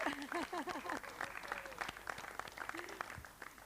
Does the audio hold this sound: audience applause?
yes